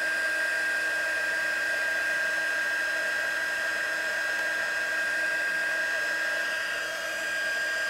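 Heat tool warming embossing powder on a handmade card, a steady loud whirring blower hum with a high whine, unchanging and close throughout.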